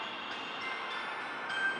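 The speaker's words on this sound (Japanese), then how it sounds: "3番乗り場に下り列車が参ります。" A down train pulling in to platform 3 at Kojima Station in Japan, a steady moderate rumble and hiss of the approaching railcars with no announcement voice heard.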